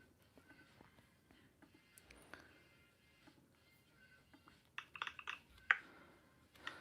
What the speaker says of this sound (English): Now I have my keyboard sound.